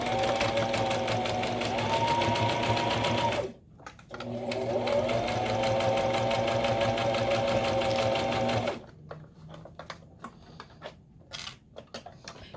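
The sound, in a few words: sewing machine sewing a long edge seam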